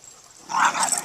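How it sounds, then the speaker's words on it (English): A small but assertive dog lets out a short, close growl that rises in the second half, brief and tense with a slight whimpering edge. "should I correct that dog for growling like that?"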